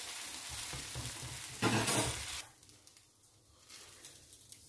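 Ghee-drizzled dosa on a hot pan, a dense hissing sizzle that swells loudly as the dosa is flipped, then quickly drops to a faint crackle with light scraping.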